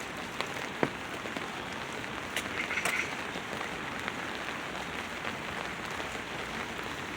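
Heavy rain pours down outdoors in a steady, dense wash of hiss and patter, loud and continuous throughout, with a few sharper drops striking nearby surfaces and no voices.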